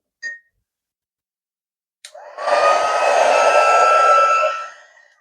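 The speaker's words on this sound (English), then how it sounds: "so now I'm going to get my heat gun" After a short beep, a heat gun clicks on at its higher setting and blows hot air over a beach-scene painting, a loud steady whir with a rising whine that runs for about two seconds before winding down.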